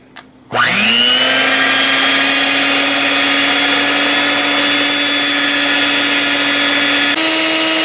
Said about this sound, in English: Now I am going to beat this egg and sugar together.